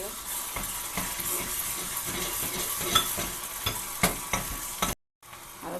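Onion and coconut paste being stirred in a hot pan in a Konkan village kitchen, with steady sizzling and repeated scraping strokes, close and fairly loud, cutting out briefly near the end.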